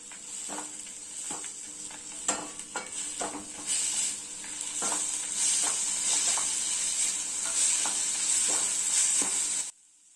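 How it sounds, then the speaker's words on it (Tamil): Pirandai chutney with coriander sautés in a pan, giving a steady sizzle and hiss, with repeated spoon scrapes and taps while it is stirred, before the sound cuts off abruptly near the end. "கொத்தமல்லியை சேர்த்துக்கலாம். ஒரு நிமிஷம் நல்லா இதை வதக்கிட்டு ஸ்டவ் ஆஃப் பண்ணிடலாம்."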